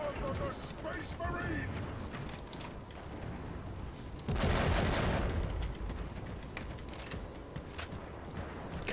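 Bolter rifle gunfire from the starting weapon in Warhammer 40k: Eternal Crusade, a loud run of rapid, clattering shots with a heavier burst in the middle, mixed with a busy game soundscape.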